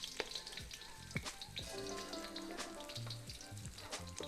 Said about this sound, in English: We're gonna baste it with the hot oil so that the top sets.